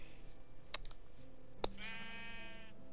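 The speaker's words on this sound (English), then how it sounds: "We got a black sheep! I'm getting sheep of all sorts of colors." Sheep bleating in the Minecraft video game: a short bleat sounds near the middle and a longer, nasal, wavering bleat follows, both fairly clear over a quiet in-game background with faint clicks.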